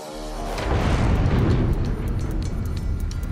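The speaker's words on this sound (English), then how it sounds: "Suddenly, there's an explosion." A loud explosion erupts aboard the battleship USS West Virginia, a deep boom that swells into a sustained roaring rumble and then slowly fades.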